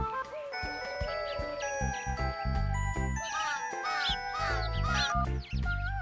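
Cartoon crow calls in a Bengali animated series, heard as repeated cawing squawks mixed with bright jingling chimes and a musical score, with no speech.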